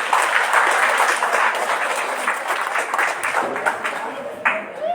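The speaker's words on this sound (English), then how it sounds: "A round of applause, please." Audience applause at a school gala night, a steady dense burst of many hands clapping that holds for several seconds and then tapers slightly.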